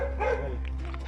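A dog barks once, muffled and low in level, over a steady hum of background noise.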